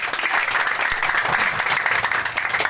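Sustained audience applause at a municipal gathering in Binidayan, Lanao, a dense steady clapping that fills the whole stretch with no talk over it.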